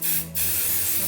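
Spray adhesive hisses from an aerosol can onto fabric and stabilizer for a sewing project, two close, steady bursts with a tiny gap between them and no talking.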